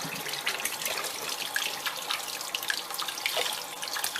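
Tap water runs steadily over celery being rinsed in a kitchen sink, a close continuous splashing and trickling with small irregular spatters throughout and no voices.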